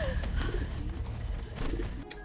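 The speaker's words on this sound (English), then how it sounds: "that bird was not a smart bird" A bird cooing like a pigeon or dove in a movie scene, a soft repeated call under a dense film soundtrack of rumble and background sound.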